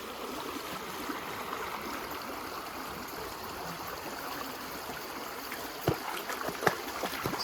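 A flowing stream runs with a continuous, even rushing and babbling close by. A couple of sharp knocks or splashes stand out near the end.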